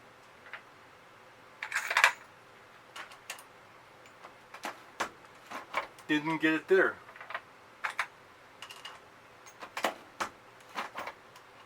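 Sharp, light clicks from a Lee Auto Drum powder measure, scattered irregularly and fairly close, with someone talking quietly over them.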